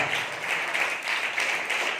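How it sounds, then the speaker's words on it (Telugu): A church congregation at a Sunday service clapping together, a steady, even patter of many hands that carries on throughout without a break. "చప్పట్లు కొట్టి దేవుని స్తుతిస్తారా?"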